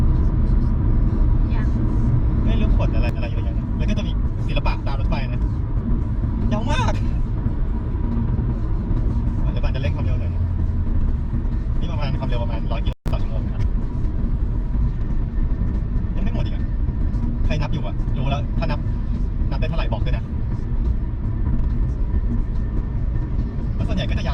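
A long, steady rumble of a train passing nearby, with rhythmic clacks of wheels on rails continuing throughout, constant and loud.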